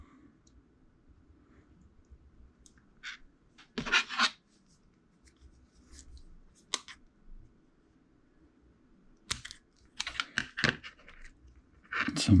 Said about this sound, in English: now I'm just going to run each wire the way it should go and then cut it to length